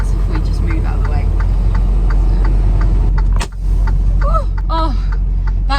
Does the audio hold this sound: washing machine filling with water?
no